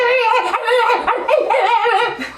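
A large dog like a Great Dane or mastiff, imitated by a human voice in a tabletop roleplay session, with a run of loud, close whimpering yips and whines.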